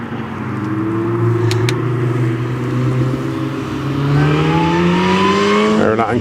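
A supercharged supercar roars past on the Curborough sprint course, its engine note climbing steadily as it accelerates, loud and close, with a brief rising whine near the end.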